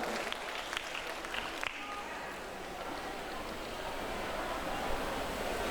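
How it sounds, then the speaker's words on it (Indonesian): Faint, steady applause from an audience at the opening of a community health check event, greeting a health official; continuous soft clapping with a hint of a voice near the start. "mohon tepuk tangan untuk Dr. Deborah"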